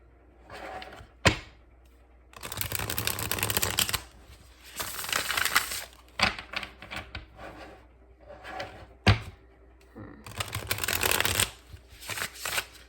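Oracle cards shuffled and pulled during a pick-a-card reading: several loud bursts of riffling, crisp papery shuffling with sharp snaps and taps between them, close up with no talking.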